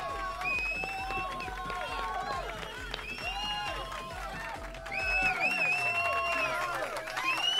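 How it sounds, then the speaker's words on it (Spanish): Studio audience applause and cheering greeting a talk-show guest, a steady rolling wash of clapping and shouts that swells louder toward the end, with a voice speaking over it. "Con un fuerte aplauso, con esos vivas"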